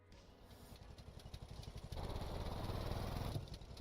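A W50 engine run as a generator in the game Stormworks revs up, a mid-pitched mechanical drone with a fast chugging pulse that swells louder partway through and holds steady.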